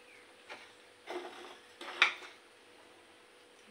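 Fried shrimp go into a kadai with a few soft metallic clinks and scrapes of a utensil against the pan, spaced out and faint in a quiet kitchen.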